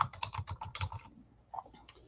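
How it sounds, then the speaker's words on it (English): Quick, light keystrokes on a Chromebook keyboard type a short description. A burst of clicks is followed by a brief pause and a few more taps, recorded close and quiet. "And then I can just go in and type in a description."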